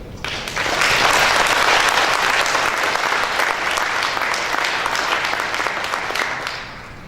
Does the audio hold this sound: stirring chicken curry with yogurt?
no